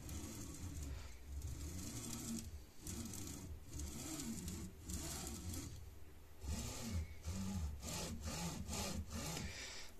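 Rough, grinding bearings on a Sovol SV06 3D printer rasp and scrape in repeated back-and-forth strokes as the axis moves, a faint, close mechanical rubbing with short pauses between passes, no voices.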